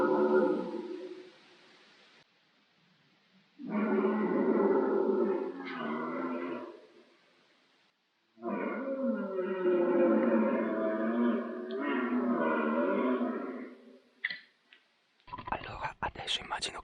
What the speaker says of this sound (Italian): poi si sentono cervi a manetta che bramiscono